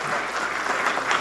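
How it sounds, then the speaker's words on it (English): Brief burst of audience applause at a town council meeting, dense steady clapping from a room of people. "You can clap."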